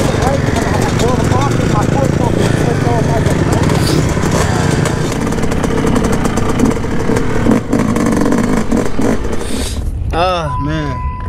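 A Yamaha YZ250 dirt bike engine snarls continuously on trails, loud and close with rising and falling revs, while people talk excitedly over it and the engine pitch swoops near the end.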